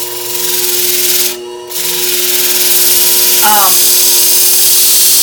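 A Khukri knife blade is held against a WorkSharp powered belt sharpener, giving a loud, steady motorised whine and abrasive hiss, broken by a brief dip partway through as the blade lifts off the belt.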